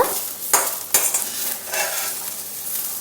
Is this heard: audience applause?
no